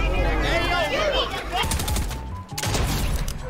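Shotgun fire in a video game sounds in quick bursts of sharp reports mixed with other gameplay effects, while a player talks over the action throughout.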